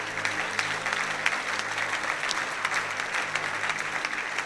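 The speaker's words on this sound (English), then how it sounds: "Can you clap your hands to the Lord?" A church congregation clapping hands together, dense and steady applause filling the room, sustained throughout at moderate loudness.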